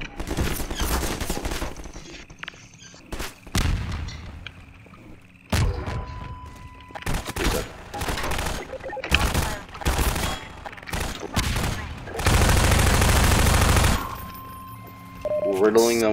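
Weapons fire in the first-person shooter Half-Life 2: sharp, loud bursts of automatic gunfire in rapid strings, split by short quiet gaps, with a long sustained burst near the end.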